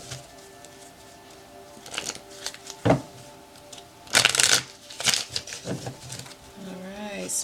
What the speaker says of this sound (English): I'm going to go ahead and shuffle my clarifying deck